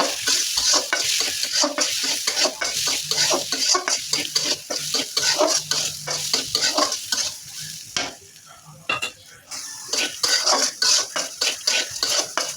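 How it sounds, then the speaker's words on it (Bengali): Red lentils (masoor dal) fry in a pan, a loud close sizzle broken by rapid, repeated scraping and clattering of a spatula stirring against the metal, with a brief quieter lull midway before the busy stirring resumes. "এবার আমি মুসুরির ডাউলটা ভাজি করে নেব।"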